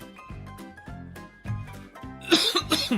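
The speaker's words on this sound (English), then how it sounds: "Now I got the coughing fits" A rapid run of coughs repeats in quick bursts, building to harsher, louder hacking toward the end of a short coughing fit.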